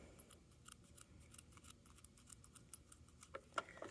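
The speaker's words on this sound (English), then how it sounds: "Now that it's sewn, I can go ahead and trim any extra elastic I have." Scissors trim excess elastic on sewn pajama pants, giving faint, close, irregular snips and small clicks throughout, with no speech.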